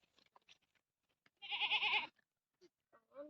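A goat gives a loud, wavering bleat lasting about half a second, close by, with faint scattered sounds and brief voices before and after.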